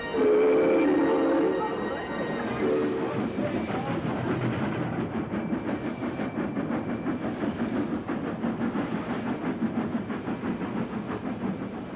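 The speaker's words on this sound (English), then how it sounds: "The 3 magnificent locos moved out of Spencer Street together" Three steam locomotives pulling out of Spencer Street station together, a steady mix of rumbling wheels and hissing steam with a rhythmic chuffing beat, loud and close throughout.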